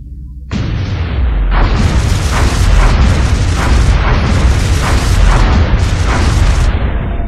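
Loud, continuous booming explosion from a UFO being shot down in the video game X-COM: Enemy Unknown, a dense rumbling roar with repeated bursts that runs for about seven seconds without speech.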